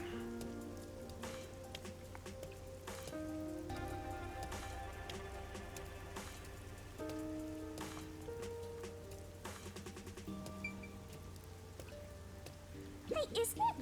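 Steady rainfall patters continuously in the always-raining streets of the video game Master Detective Archives: Rain Code, a soft, even hiss running beneath gentle sustained background music.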